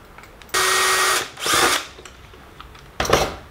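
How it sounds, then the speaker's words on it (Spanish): A power drill with a fine bit boring through metal sheets for cold rivets, three close bursts of high whining drilling, the first long and steady, the others shorter, separated by quiet pauses. "Lo que voy a hacer ahora es cambiar la mecha y poner mechas más finas, que son del diámetro de los clavos"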